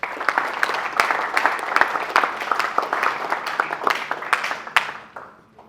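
Audience applause at a leadership and mental performance coaching talk, dense clapping from a sizeable crowd with sharp individual claps standing out, steady for about five seconds before thinning and fading out at the end.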